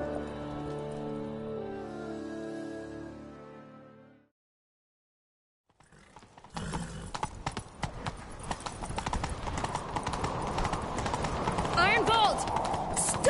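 Horse hooves galloping in The Witcher video game: after a musical passage and a brief silence, a fast, rhythmic clip-clop of hooves takes over and keeps pounding, with voices speaking over the galloping.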